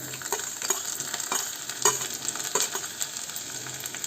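Garlic frying in hot mustard oil in a pan, a steady close sizzle with scattered crackles and a few sharper pops from stirring, no talking.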